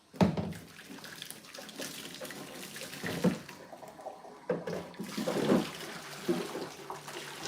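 Water poured out of a kettle freshly descaled with vinegar, with splashing bursts that come and go over several seconds, close by in a kitchen.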